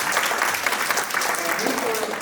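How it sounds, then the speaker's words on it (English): An audience claps at a community event, a dense, steady round of applause at moderate distance with voices mixed in. "So let's give him a round of applause."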